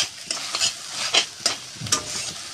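Spice paste (masala) with mustard paste and tender stalks being stirred and fried in a pan, close and moderately loud, with repeated scraping strokes over a steady sizzle.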